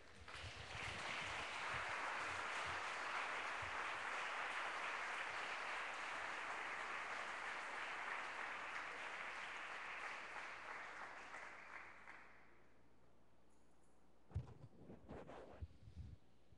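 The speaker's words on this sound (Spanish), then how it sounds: "¿Le puedes dar un aplauso al Señor?" A church congregation at a Sunday service claps in dense, sustained applause for about twelve seconds, then it stops abruptly, leaving quiet room tone and a few faint knocks.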